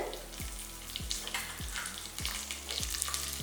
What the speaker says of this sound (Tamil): எண்ணெயிலேயே போட்டுருவோம் நல்லா பொறிஞ்சிரும்